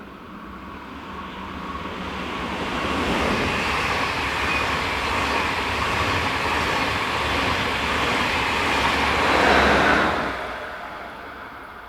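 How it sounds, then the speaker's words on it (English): Swiss train running past on a line served by Class 460 locomotives, a steady rumbling roar that swells as it nears and peaks close by before tapering off, with no voices. "This is a good line to see Class 460 locomotives."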